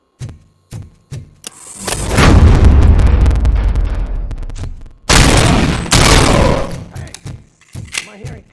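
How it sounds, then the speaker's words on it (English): Gunfire and explosive booms from the video game RoboCop: Rogue City, with several sharp isolated cracks followed by long loud rumbling blasts, then more scattered shots near the end. "Am I hearing gunshots?"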